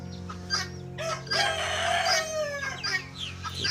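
A rooster nearby lets out a drawn-out crow amid scattered clucks and chicken calls, with a steady low hum beneath, at a coffee stop in Wiang Pa Pao, Chiang Rai, Thailand.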